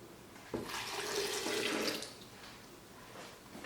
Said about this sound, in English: Then pour the water.